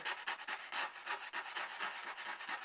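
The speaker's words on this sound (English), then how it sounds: "Just keep rubbing." Gold leaf is rubbed onto a glued surface by hand, giving a soft, rhythmic brushing rasp repeated in quick back-and-forth strokes, close and quiet with no talking.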